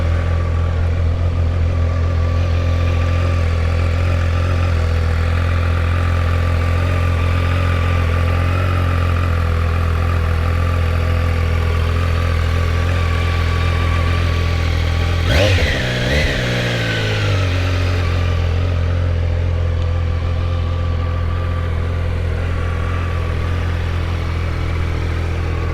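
A Triumph motorcycle engine runs at a steady, loud idle close by, with a brief surge of revving partway through before it settles back to an even idle.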